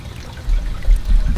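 Water trickles and dribbles in a small garden water feature, a soft close pouring that swells slightly midway and stays steady with no voices.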